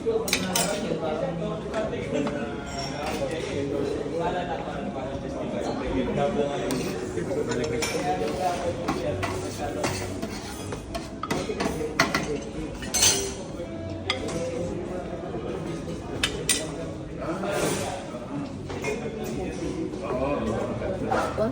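Plates and dishes clink and clatter at a restaurant in Tagaytay, a steady scatter of ceramic and cutlery taps under near-constant nearby conversation.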